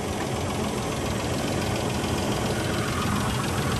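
An Isuzu Rodeo V6 barn find idles nearby with an open engine bay, a dense, steady mechanical clatter and hum that holds constant throughout with no voices.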